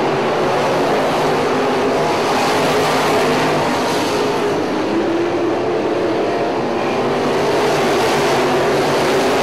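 Midwest modified race cars roar around a track, a dense, loud, continuous engine drone from a pack of cars, steady throughout with no voices.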